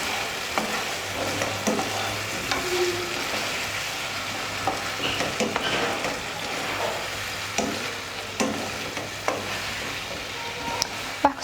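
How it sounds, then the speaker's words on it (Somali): Chilli fish with peppers, onion and sauce being stirred in a frying pan, a steady sizzle with repeated scraping and clattering strokes of the utensil throughout, close and alone. "waxaan ku darayaa sooskii yaraa iyo kalluunkii waan isku walaaqaynaa"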